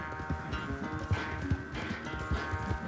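A horse gallops across open ground in Red Dead Redemption 2, its hooves pounding in a fast, steady clip-clop rhythm, close and prominent over a low ambient game background.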